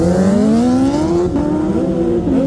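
Drag-racing motorcycles at the Desert Wolves Rally launch hard with wheel spin, their engines screaming loudly through rising, gear-shifting revs over a short pull.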